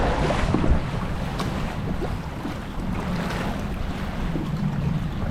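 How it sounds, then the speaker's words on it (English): Strong wind buffets the microphone over open water from a kayak, with a constant low roar and occasional gusts, loud and close, no voices. "it's getting real windy out here"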